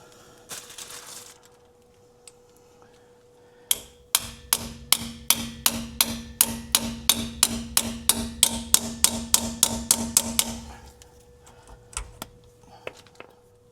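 Hammer blows drive bread into the pilot bearing bore of a 1984 Ford F-150, a steady run of about twenty sharp metallic taps at an even rhythm, loud and close, with no talk.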